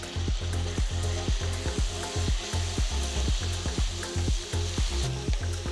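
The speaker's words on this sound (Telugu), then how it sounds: "5 నిమిషాల తర్వాత బాగా తరిగిన ఒక టొమాటోని వేయాలి" Chopped tomato sizzling in a kadai for brinjal gravy, a dense continuous crackle with a quick rhythmic pulsing texture, close and steady, no voices.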